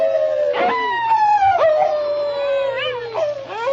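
A man imitates a wolf howl, a long wavering howl that slides downward, with a few sharper yelping accents woven through it, loud and close.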